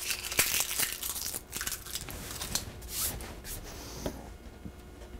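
Skin is peeled off a roasted bell pepper, giving close, soft tearing and crinkling sounds in irregular bursts throughout, with no talk.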